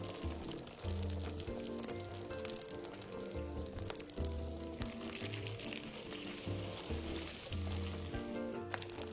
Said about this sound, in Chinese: 油热后，再将生坯放入油炸